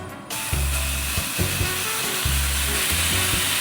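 Gyro meat sizzling in a frying pan, cooked batch by batch, a constant loud hiss of frying with low thumps and scraping as pieces are moved and turned.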